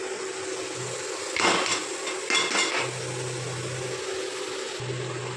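Washed chow mein noodles dropped into oil in a pan for a winter-vegetable tiffin dish, two short bursts of clattering and stirring over a low steady sizzle, close by, with no voices.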